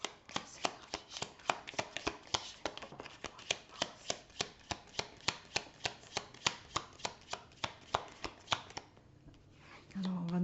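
Tarot cards being shuffled close up, a steady rapid run of crisp slaps and riffles for most of the span, then stopping before a faint sound at the end.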